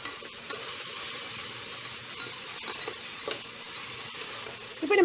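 Onions sauté in a pan until golden brown, a continuous close sizzle and crackle of frying with occasional stirring scrapes, no talking.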